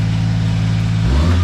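A Honda Acty engine with an oil leak runs loud and close at a steady mid-pitched drone, then near the end its pitch shifts as it revs up, and no one speaks over it.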